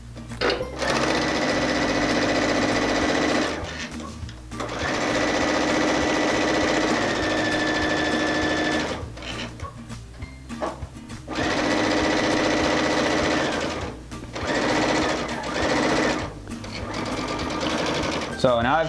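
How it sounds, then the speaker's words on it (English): A home sewing machine stitches a quarter-inch seam while piecing a diamond ripple quilt, running loud and steady in several long bursts with short pauses between them, and a person talks briefly during the breaks. "set my seam to 1/4 inch, and I'm going to sew"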